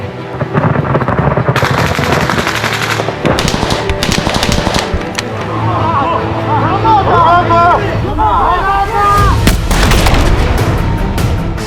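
Loud machine gun bursts and heavy gunfire ring out during combat in the defence of Avdiivka, with rapid rattling volleys and booms close by. Soldiers shout over the shooting.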